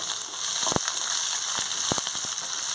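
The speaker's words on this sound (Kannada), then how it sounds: "ದಪ್ಪದ ಒಂದು ಈರುಳ್ಳಿ ಸ್ವಲ್ಪ ಫ್ರೈ ಮಾಡ್ಕೊಳ್ತೇನೆ." Sliced onion with curry leaves frying in hot oil in a pan, a steady close sizzle with occasional sharp pops and crackles.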